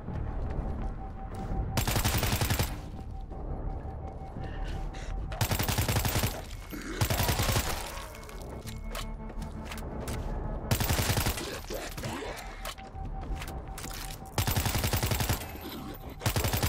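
Rapid bursts of automatic gunfire rattle through a World War Z video game fight in New York City, several loud fusillades separated by short lulls, with faint in-game voices underneath.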